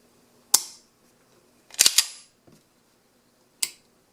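A 1911 pistol trigger, fitted with a stoned sear, snaps with a few short, crisp clicks separated by near silence, including a quick double click at reset, heard up close.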